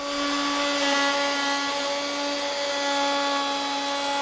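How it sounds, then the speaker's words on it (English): A router riding on a router sled mills down a thick mahogany guitar body blank, producing a loud, continuous high whine with steady tonal harmonics and no pauses, close up and without talk. "Here I'm just milling down the mahogany body blank because it's too thick for the top. I'm using my router sled on my router to do this."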